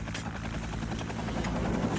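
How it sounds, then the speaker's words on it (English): An Afghan Air Force Mi-8 attack helicopter arrives near a border area, its rotor and turbine roar loud and steady with a rapid pulsing thump throughout, no voices over it. "An Afghan Air Force Mi-8 attack helicopter arrives."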